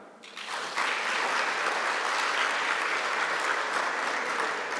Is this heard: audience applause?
yes